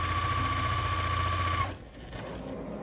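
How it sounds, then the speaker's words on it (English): A sewing machine runs steadily, stitching around the perimeter of a quilt in a rapid, even mechanical whir with a constant hum. It stops abruptly after about a second and a half, then gives way to faint handling noise. "So we're just gonna sew around the perimeter to secure our fabrics."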